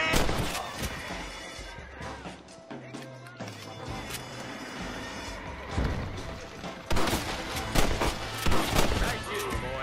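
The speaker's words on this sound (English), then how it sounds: "Nice shooting, boy" Gunshots in the Red Dead Redemption video game, a steady mix of shots and crashes amid game music and voices, growing denser and louder toward the end.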